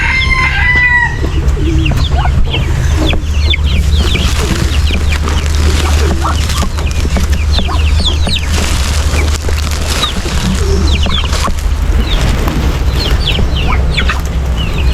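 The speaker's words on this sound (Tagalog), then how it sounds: "Kinakain ng mga manok oh." Several chickens clucking and pecking at vegetables close by, with bird calls and a steady hum in the background.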